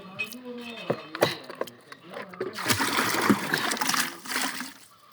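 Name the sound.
water being drawn from a well, splashing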